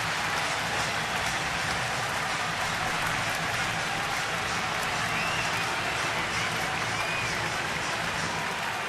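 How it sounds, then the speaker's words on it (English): A baseball stadium crowd in a Miami at Washington game does the Shark, a dense, steady roar of cheering and clapping that washes evenly across the whole stretch with no single voice standing out. "The whole crowd's doing the Shark here."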